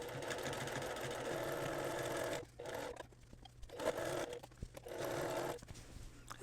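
A sewing machine edge stitches a quarter inch from the edge of a reversible wrap dress, humming in several close, steady runs broken by short pauses.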